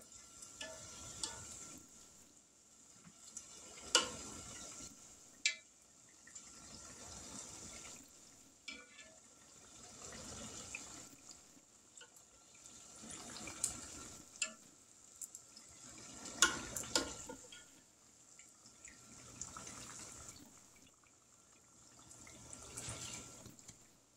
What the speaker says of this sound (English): we're going to keep frying these